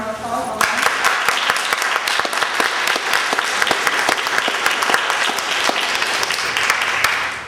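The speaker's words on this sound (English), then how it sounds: "let's give everyone a round of applause" Audience applause fills a community meeting on Medicare Part D, a steady dense wash of many hands clapping that starts abruptly and holds loud for several seconds.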